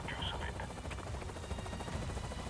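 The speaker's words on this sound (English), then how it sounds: "there's a chopper inbound" A helicopter approaches in the Avatar: Frontiers of Pandora video game, a low rotor rumble and whine under game effects at moderate level, with a voice heard briefly.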